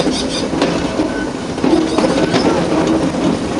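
Ooty mountain railway train running along its tracks through a short tunnel, a steady loud rumble with faint clickety-clack from the wheels, continuous throughout with no voices.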